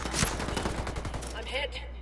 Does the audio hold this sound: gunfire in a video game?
yes